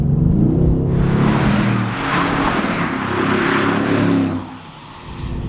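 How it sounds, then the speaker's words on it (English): A 2016 Mercedes-AMG GT's 4-liter V8 engine revs hard and holds a loud, harmonic roar for several seconds, then drops off sharply as the throttle lifts. "Anyone who thought a 4-liter V8 was gonna sound bad in the new line of AMGs"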